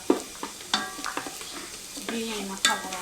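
Ground biryani masala and onions fried in oil, a soft sizzle under repeated scraping and stirring strokes from a spoon against the pan, close and moderately loud.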